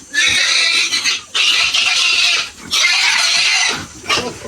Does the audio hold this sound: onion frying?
no